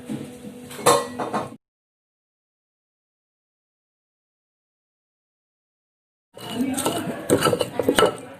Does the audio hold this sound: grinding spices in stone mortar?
yes